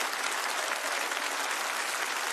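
Concert audience applauds a singer with dense, even, sustained clapping that fills the whole stretch at a steady moderate level.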